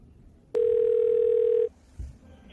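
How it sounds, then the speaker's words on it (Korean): A telephone dial tone sounds while a call is being placed: a steady, loud, pure electronic tone lasting about a second, followed by a short soft bump. "전화 한번 해봐야겠다"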